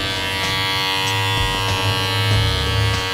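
Electric hair clippers fitted with a number one magnetic guard (3 mm) buzz steadily during a barbershop haircut, a close, continuous hum with slight dips as the blades move through hair.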